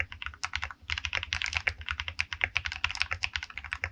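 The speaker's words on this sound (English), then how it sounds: "In this video, I'll be going through the steps in building and modding this keyboard" Modded Royal Kludge RK68 mechanical keyboard being typed on, a quieter, steady stream of close, rounded key presses with a muted low thock under each one.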